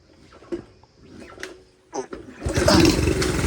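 A smoky Honda CT70 motorcycle with a starting problem fires up after a few scattered knocks and clunks, its engine then catching and running loud and steady right up close.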